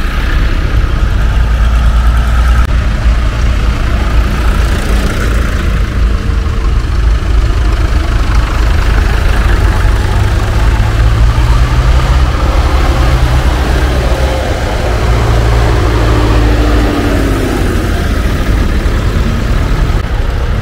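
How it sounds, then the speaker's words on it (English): Tractor engines, including an old grey Massey Ferguson, idle loudly and steadily at a tractor rally at Blarney Castle, Ireland, a deep continuous rumble with slight pitch shifts close by. "Got tractor gridlock."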